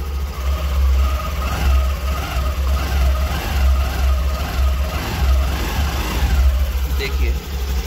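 Motorcycle engine revved lightly to blow water out of a wet silencer, a steady low idle rumble with gentle rev swells, close and loud, with a person talking over it.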